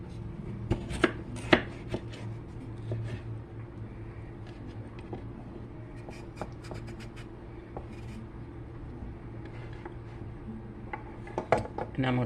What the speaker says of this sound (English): Okay, while the egg is boiling, I'm going to chop my potatoes.